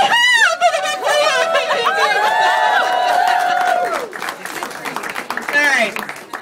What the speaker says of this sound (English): So big round of applause and a really big yeah